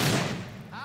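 A single loud gunshot in the game Fable 3, a sharp close crack that decays within half a second, followed by a faint ringing tail.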